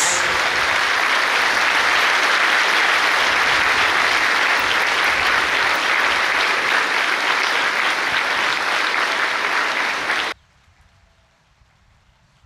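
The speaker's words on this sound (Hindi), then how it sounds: "Clap for the Holy Ghost with all your both hands." A church congregation claps for the Holy Ghost in sustained, dense applause lasting about ten seconds, then stopping abruptly into near silence.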